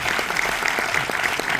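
Applause from an audience at a Paris film premiere, dense steady clapping throughout with a few faint voices mixed in.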